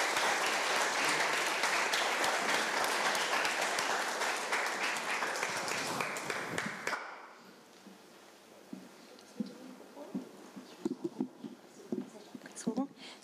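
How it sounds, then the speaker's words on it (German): Dense audience applause at a live poetry slam fills the first half, loud and sustained, then cuts off into quiet room sound with a few taps and soft voices. "Einen großen Applaus für Najla und heute als Frida Kahlo."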